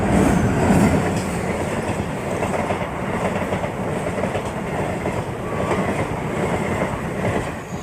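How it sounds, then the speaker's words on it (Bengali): A train rumbles past close by at a level crossing, steady loud roar with rhythmic clickety-clack of wheels on the rails throughout. "দেখতে পাচ্ছ ট্রেন আসতেছে ট্রেন চলে আসলো"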